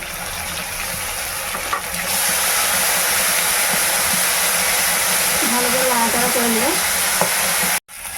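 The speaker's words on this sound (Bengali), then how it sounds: "মশলাটা কষা হয়ে গেছে" A spice paste made with white mustard paste is sautéed in a pan for a village-style fish curry, making a loud, continuous sizzle with stirring scrapes, and the sizzling jumps in strength partway through.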